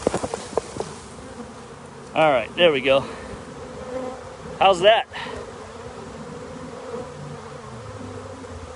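A swarm of honeybees buzzing in the open air outdoors, a steady hum that runs under a man's brief spoken remarks.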